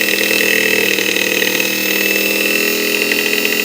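An electric motor driven by a homemade 24/36V motor controller runs at half throttle, giving a steady, loud whine and hum that holds an even pitch throughout.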